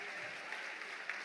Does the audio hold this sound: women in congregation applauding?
yes